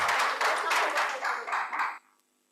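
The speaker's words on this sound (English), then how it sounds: "Can we have a huge round of applause for these professors?" Applause from a conference audience for professors at a management education conclave, a dense burst of clapping that swells briefly and then cuts off abruptly, followed by near silence.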